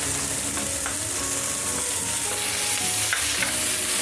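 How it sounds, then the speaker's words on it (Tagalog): Garlic and onion stir-fry in a pan with a continuous, close, loud sizzle, punctuated by faint scraping as the mix is stirred. "Lagay na natin yung ating garlic. 5 butil o 5 cloves. Haluin lang natin to. Sunod na rin yung ating onion."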